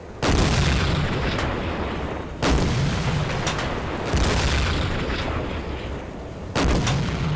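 An enemy deck gun fires in the Silent Hunter 4 submarine game, four heavy booming shots spaced a couple of seconds apart, each trailing into a long rumbling roar, with no talk over them.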